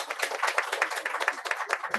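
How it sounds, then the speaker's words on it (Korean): A church congregation claps in thanks during a church founding thanksgiving service, brisk rhythmic clapping at moderate distance, somewhat soft and blended with a few voices. "하나님께 감사의 박수 한번 올려드리겠습니다."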